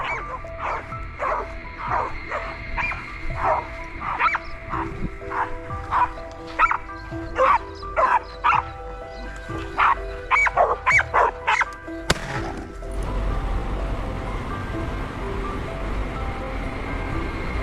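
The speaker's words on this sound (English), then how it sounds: "Trapped tight by our pack of hunting dogs." A pack of hunting dogs bays and barks at a boar trapped in a swamp near rice fields, a sustained chorus of overlapping howls and yips. It gives way to a rumbling wash of noise near the end.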